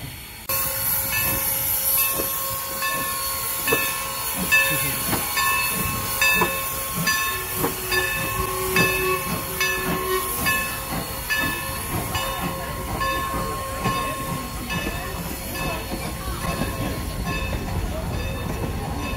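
A small miniature train at Strasburg Railroad clatters past with rhythmic wheel clicks, hissing and a few high squeals, while people talk nearby.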